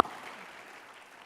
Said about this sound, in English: let's go ahead and clap